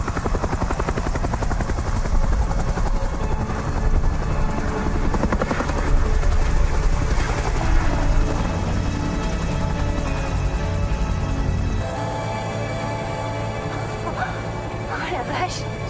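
A helicopter flying, its loud, constant rotor thrum and engine drone filling the scene for the whole stretch and easing slightly toward the end.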